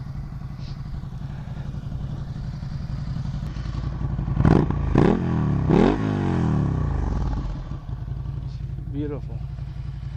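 A 2015 Ducati Scrambler engine idles with a steady low rumble throughout, with a few louder revving bursts midway, under a voice speaking briefly.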